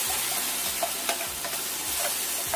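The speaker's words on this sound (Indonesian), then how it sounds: "Kita panaskan wajan. Kita masukkan dulu bumbunya ini tanpa minyak." Spices dry-roast in a hot wok without oil, giving a steady close sizzle with scraping stirs every half second or so under a faint low hum.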